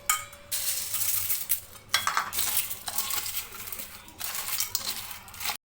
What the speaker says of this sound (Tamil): இந்த மாதிரி கொஞ்சம் கொஞ்சமாக போட்டு நல்லா மிக்ஸ் பண்ணி விடுங்க